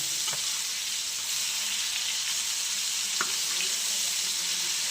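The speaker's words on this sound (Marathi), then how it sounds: "जरा पलटी मारून घेऊया गाईज मच्छी फ्रायला." Fish sizzling steadily in a hot pan, a constant hissing fry with a few brief clicks and taps as pieces are turned, no voices.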